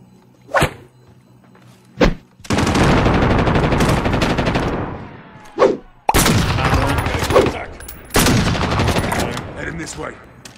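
Gunfire in the Warzone video game: isolated sharp shots, then long sustained bursts of automatic fire with a few more single cracks, loud and close, with no talking.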